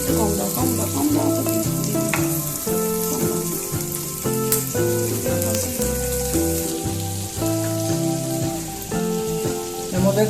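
White sauce sizzles and bubbles in a pan on the stove, a loud, continuous frying hiss with scattered pops, mixed with some steady tonal background sound.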